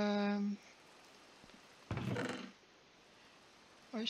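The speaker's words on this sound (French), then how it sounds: "Oui, il pleut." Rain in the Minecraft video game falls as a faint, steady hiss, broken by a short louder rush of noise and brief fragments of game music at the start and end.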